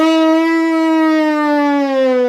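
A sustained buzzing tone from lips on a baritone mouthpiece, loud and close, holding one slightly sagging pitch for a couple of seconds, rich and reedy with no talking.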